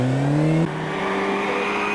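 A Cosworth rally car on a winter rally revs hard with its wheels spinning, the engine holding a high steady whine and then dropping in pitch as it settles, loud and close with no talk.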